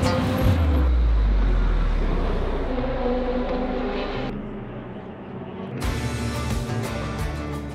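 Cars driving around a race track near the Dunlop Bridge at Le Mans, a steady loud roar of passing engines that swells and fades as vehicles go by, with no talking.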